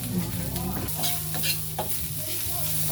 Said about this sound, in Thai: ผัดเครื่องให้หอมก่อนนะครับ